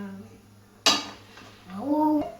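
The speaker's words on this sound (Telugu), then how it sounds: "సో ఇప్పుడు ప్యాన్ పెట్టేద్దాం." A cooking pan is set down on a kitchen stove with one sharp metallic clank, followed by a brief voice.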